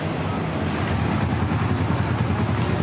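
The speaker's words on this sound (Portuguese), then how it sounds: "ficam acelerando a moto parada no mesmo lugar" A motorcycle held in place while its engine is revved, a loud continuous engine roar with a rough low rumble that stays steady throughout, with a faint voice in the background.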